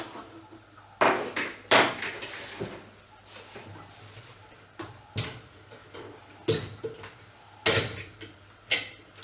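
A cheek rest is pushed back into a GRS Bolthorn chassis on a Tikka T3 rifle and locked down, giving a close, irregular run of sharp plastic-and-metal clicks and knocks, about ten in all.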